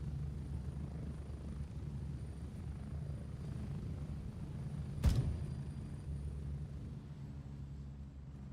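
A helicopter in the military shooter Gray Zone Warfare drones steadily overhead, a continuous low rotor rumble, with one brief sharp crack about midway through.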